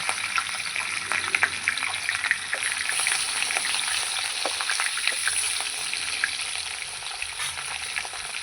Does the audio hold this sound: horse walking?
no